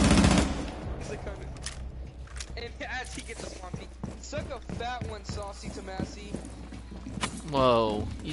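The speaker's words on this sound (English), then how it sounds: "You are shooting very close to me with that pistol." Rapid, close pistol shots in a Rainbow Six Siege bomb round, with a dense run of sharp cracks in quick succession under voices talking and shouting.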